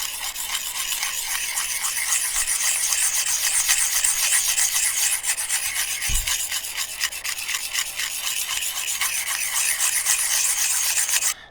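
Knife blade pushed under heavy pressure across the coarse side of a sharpening stone, a close, continuous rhythmic gritty scraping in quick back-and-forth strokes.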